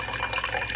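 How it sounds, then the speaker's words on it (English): Water splashes and gurgles briefly as it is poured into a jar, a soft, short, continuous trickle heard up close without any speech. "All right, so we pour the water in our jar."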